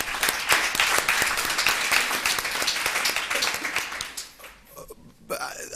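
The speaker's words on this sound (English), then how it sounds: "So can we give them a hand of applause?" Conference audience at a CFO event claps for the sponsors, dense sustained applause for about four seconds before fading out, with some voices underneath near the end.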